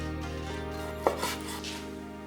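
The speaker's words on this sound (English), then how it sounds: "Then turn and cut crosswise into the smaller pieces." A knife cuts raw chicken breast crosswise into spoon-sized pieces for Tom Kha Gai, giving one sharp chop against a board followed by a softer second knock, otherwise quiet.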